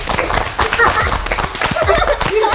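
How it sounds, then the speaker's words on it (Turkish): Applause for a contestant named Zeynep during a ball-throwing target game show, steady clapping lasting a couple of seconds with voices talking over it. "Zeynep bir alkış"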